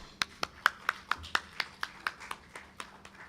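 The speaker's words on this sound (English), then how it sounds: "Let's give them a warm applause." Audience applause at a civil society presentation event, a sparse, thin round of about a dozen separate hand claps at a steady rhythm, fairly faint and slightly spaced out.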